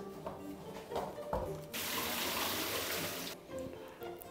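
A kitchen tap runs for a couple of seconds as chicken fat is rinsed, a steady close water rush between quieter handling sounds before and after.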